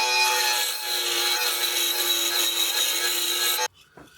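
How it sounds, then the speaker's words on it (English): A bandsaw slicing through wood in a workshop, a loud, steady rasping whine that runs alone for over three seconds before cutting off abruptly into quiet. "I'm going to use the bandsaw because I've got one and it makes it quicker for me."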